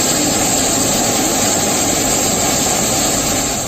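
Russian fighter jets flying behind a surveillance aircraft give a loud, continuous broadband engine roar that holds steady throughout with no voices.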